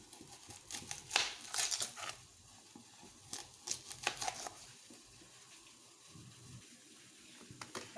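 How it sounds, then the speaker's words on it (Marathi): A knife chops an onion into thick chunks on a board in a home kitchen, with crisp, close cuts in irregular bursts and short pauses between strokes. "आता आपण एक कांदा कापून घेऊ"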